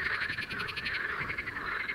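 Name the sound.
frog croaking in a pond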